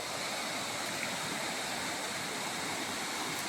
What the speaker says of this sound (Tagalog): Dito po ako naliligo sa ilog na ito, sa sapa na ito.